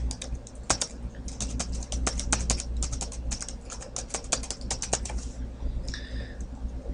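A web address is typed on a computer keyboard, with rapid, close, crisp key clicks in uneven bursts that pause briefly near the end, no voices.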